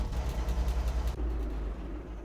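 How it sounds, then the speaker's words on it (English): A truck engine in Alaskan Road Truckers runs with a low, pulsing churn, then catches and settles into a steadier, deeper hum partway through, close and moderately loud with no voices. "Let's start the engine on up."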